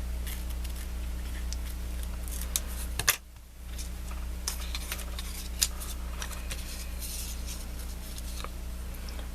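Scissors snip through scrap paper in short crisp cuts spread across a quiet tabletop craft session, close and distinct with a brief pause partway.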